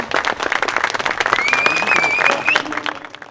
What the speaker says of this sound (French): Allez, on peut l'applaudir bien fort encore une fois,